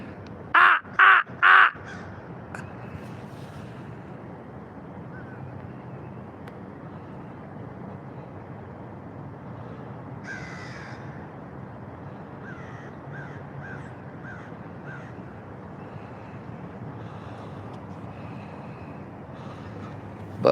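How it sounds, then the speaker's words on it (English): Crows caw outdoors near a county courthouse and its parking area: three loud, close caws at the start, then fainter scattered calls later over steady outdoor background noise. "there's been crows following me all the way up here"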